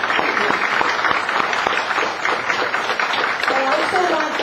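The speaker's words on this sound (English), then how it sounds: "I want to ask everyone to join me and give them a big round of applause." At a community candidate forum, the crowd breaks into a big round of applause, with brisk, dense clapping throughout and voices talking over it near the end.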